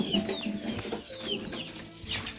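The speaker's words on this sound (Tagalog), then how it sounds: "mga manok." Several chickens cluck and murmur continuously nearby, with occasional higher squawks breaking through a steady farmyard background.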